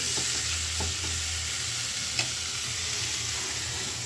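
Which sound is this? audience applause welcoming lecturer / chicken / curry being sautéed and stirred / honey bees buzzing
curry being sautéed and stirred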